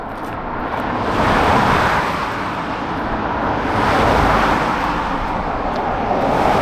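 A car on a roadway near a runner on a trail at night produces a loud, steady rushing roar that swells twice as vehicles pass by, with no talking.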